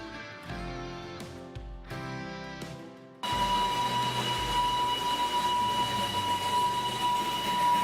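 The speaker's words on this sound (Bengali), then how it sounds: "এখানকার টয় ট্রেনগুলো প্রাচীন ঐতিহ্য ধরে রেখেছে। এগুলোর ইঞ্জিন এখনো চালিত হয় কয়লা দ্বারা।" A coal-fired steam toy train at Ghum railway station in Darjeeling sounds several short, tonal whistle blasts. A steady, loud rumbling hiss from the engine follows.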